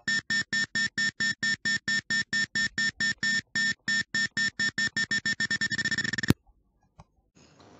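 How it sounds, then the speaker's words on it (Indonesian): A parking sensor alarm program beeps in evenly spaced electronic pulses that speed up until they merge into one continuous tone, then stop with a sharp click, followed by a few faint taps. "ini untuk program alarm parkir"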